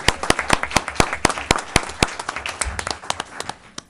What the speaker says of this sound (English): Round of applause for Mr. Pope.